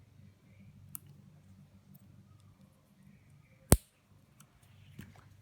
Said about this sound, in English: Before putting the nail back, it is good to put a little bit of the trimming, all the margins of the nail.